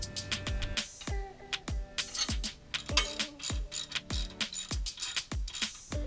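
A ratchet tightening bolts on a step bar bracket of a Dodge Ram 1500 pickup: a series of sharp, close metallic clicking bursts repeating in an uneven rhythm for several seconds.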